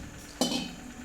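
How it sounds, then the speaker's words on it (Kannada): A utensil clinks once against a large bowl while doddapatre bajji batter is mixed with water, a single soft knock with a faint ring over quiet background. "ಚೆನ್ನಾಗಿ ಹಿಟ್ಟನ್ನು ಮಿಕ್ಸ್ ಮಾಡಿಕೊಂಡು"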